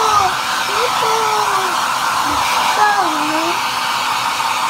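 A cheap handheld electric blower runs with a steady, loud whooshing roar throughout, with faint high-pitched voices drifting over it.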